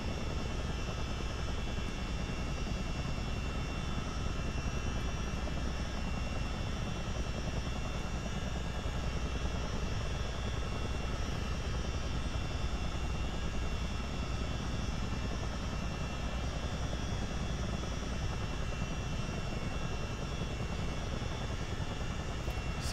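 Steady, droning whine of CH-47D Chinook helicopter engines in a flight simulator game, a constant broadband hum with sustained tonal layers that holds evenly throughout without pauses.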